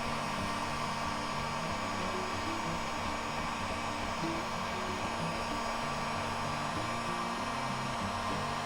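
A heat gun blows steadily to melt wax into fabric for a waxed tin vest, a constant soft hiss of hot air with a faint motor whine, unbroken and alone.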